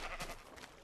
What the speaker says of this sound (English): the sheep will eat the grass